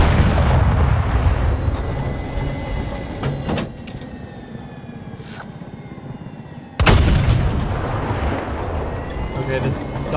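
A tank's heavy cannon booming in Battlefield 2042 Conquest gameplay, loud rumbling blasts and battle noise that drop to quieter rumble before another sharp blast, with someone talking over it.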